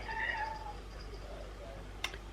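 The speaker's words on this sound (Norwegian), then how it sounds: "Her er katten igjen." Indoors in a kitchen, a cat lets out a drawn-out, wavering meow nearby, followed by a soft pause and a brief sharp click.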